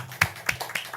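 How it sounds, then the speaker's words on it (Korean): A congregation at a Korean church service claps in thanks; three or four distinct, close hand claps land in quick succession over a low background. "우리가 마음 담아서 아버지께 감사의 영광의 박수를 한번 돌렸으면 좋겠습니다"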